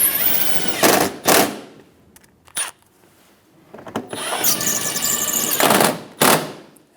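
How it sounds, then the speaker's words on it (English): A power driver runs in several short bursts while fastening screws into the front of a fender liner on a 2007-2017 Ford Expedition, loud and close, with quiet gaps between the bursts. "Install the 2 screws in the front of the fender liner."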